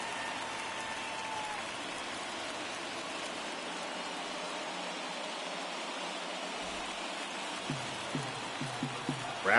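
Crowd noise in a video game baseball stadium in Oakland, a steady broad roar of fans cheering under the game's ambience, with a few brief thumps near the end.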